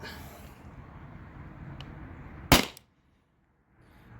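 A single sharp, loud CO2 air gun shot from a full 20 oz tank cracks close by against faint outdoor traffic noise, then cuts to brief silence.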